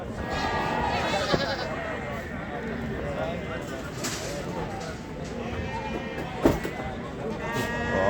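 Goats bleat repeatedly at a crowded goat market in Ganja, including milking goats, their wavering cries overlapping close by and further off while people talk throughout.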